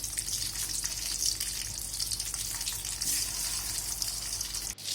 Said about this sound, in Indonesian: Kita goreng percabean, perbawangan sama tomat